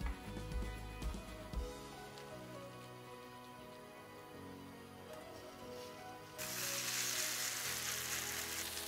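Sweet potato and ham fritters frying in a pan, a steady low sizzle with faint pops and a few clunks at first, then a louder, brighter hiss of oil over the last couple of seconds.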